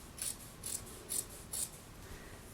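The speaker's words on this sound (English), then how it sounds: "take your fabric scissors and put them through both layers of the shirt" Fabric scissors snip through two layers of a cotton t-shirt in four evenly spaced crisp cuts, close and fairly quiet, with a soft rustle of fabric afterward and no talking.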